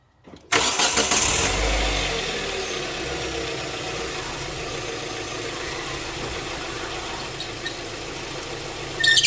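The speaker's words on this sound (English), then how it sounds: "All right, let's start it up again." A car engine cranks and catches, then settles into a steady, loud idle that runs unbroken to the end.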